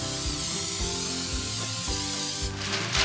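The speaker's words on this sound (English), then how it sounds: "So I'm gonna spray the bottom of the pan." Cooking spray hisses onto the bottom of a 33 by 22.9 cm baking pan, a short close burst near the end over steady background music.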